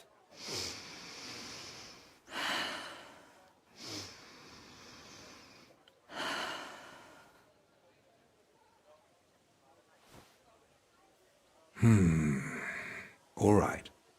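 A character in Kingdom Come Deliverance 2 takes deep, slow breaths, each a long breathy inhale or exhale separated by pauses, close and clear, ending with two sharper, louder heaving breaths.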